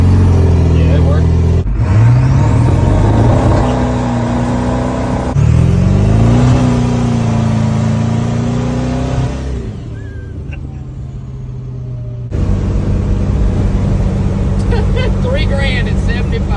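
A Ford 7.3 diesel engine in an old ambulance truck with performance upgrades revs up and settles in repeated swells, loud and close, with a quieter stretch before the engine surges again.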